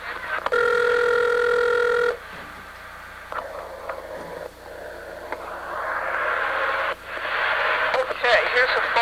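A telephone rings once with a loud, buzzy tone over a radio call-in show, followed by several seconds of hissy broadcast noise and faint clicks.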